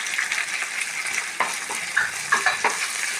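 Curry leaves, three dried red chilies and black pepper sizzling in a pan for coconut chutney, a close, steady crackle with a few sharp pops and stirring scrapes, no talking.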